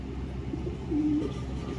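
A racing pigeon gives a short, low coo amid a steady hum of outdoor background noise, with no voices.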